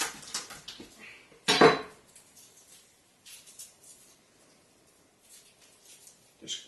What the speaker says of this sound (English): you take the broad side of your knife and you just crush the clove of garlic